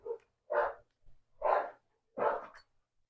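A dog indoors barks four times in short, evenly spaced bursts, the first softer, with quiet gaps between them.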